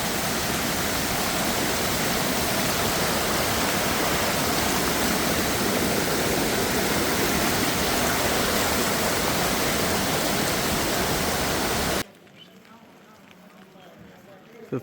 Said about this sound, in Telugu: వాటర్ ఫాల్ అంతా చల్ల నీళ్ళు